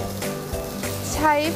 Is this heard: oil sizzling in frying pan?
yes